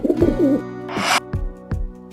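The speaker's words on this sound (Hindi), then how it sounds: "This is pigeon." A pigeon coos in low warbling notes up close, followed by a soft rustle and a few sharp taps.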